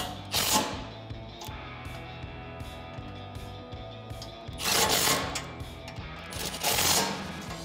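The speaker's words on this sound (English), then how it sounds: "what I'm gonna do is tighten these up. I'm using the same 14 millimeter socket that we used before" A ratchet with a 14 millimeter socket and short extension tightens studs on the winch plate of a DV8 Offroad center mount front bumper on a Toyota Tacoma, giving steady mechanical clicking with a few louder bursts, close by.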